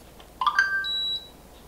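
A DIY-installed mini-split heat pump gives a short electronic chirp sequence as it connects, a quick few rising tones followed by one sustained higher beep, faint and brief in a quiet room.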